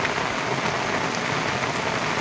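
Heavy monsoon rain in Konkan pours down steadily, a dense unbroken hiss of drops drumming on surfaces with no pauses and no voices.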